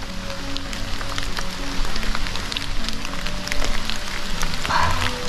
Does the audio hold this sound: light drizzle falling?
yes